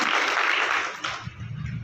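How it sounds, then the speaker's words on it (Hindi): An audience at a Janmashtami gathering of the Yadav Sabha in Mahendragarh breaks into a dense burst of clapping that starts loud and fades quickly after about a second. "तो इसके लिए जोरदार तालियां।"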